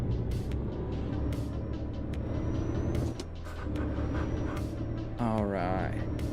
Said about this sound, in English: you guys can hear the truck, right?